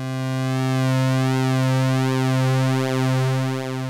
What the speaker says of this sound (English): I start increasing the modulation depth, how strongly the LFO is controlling this pulse width.